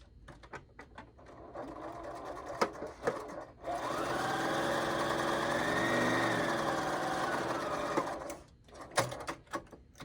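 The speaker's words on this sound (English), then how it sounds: "So you sew the hat band" A sewing machine stitches a hat band onto a snowman pot holder, running in a steady whirring burst for several seconds between short bursts of clicking and handling noise.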